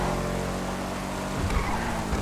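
A Benefactor Schlagen GT sports car drives along in Grand Theft Auto 5, its engine a steady loud drone with tire noise and a brief rougher bump midway, no voices over it.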